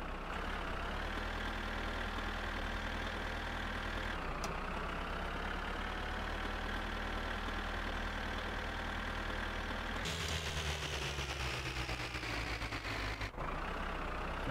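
A car engine idles steadily inside the video game My Summer Car, a constant low mechanical drone with a slight change in pitch partway through. The sound is close and carries on without a break, with no speech.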